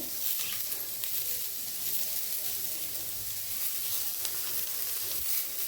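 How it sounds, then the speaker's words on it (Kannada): Tomato chutney ingredients fry in a pan on low heat, giving a steady, close, even sizzle with faint crackles and no talking. "ಇದನ್ನು ಸಿಮ್ ಮಾಡಿಕೊಂಡೆ ಹುರ್ಕೋಬೇಕು, ಜಾಸ್ತಿ ಉರಿ ಇಡಬಾರ್ದು."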